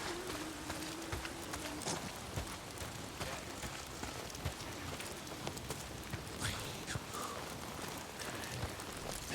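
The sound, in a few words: rain falling in the video game Days Gone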